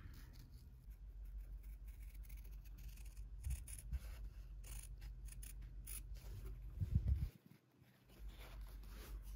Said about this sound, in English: you're going to follow the edge of your paper with your scissors, leaving at least a quarter inch of a seam allowance around your shape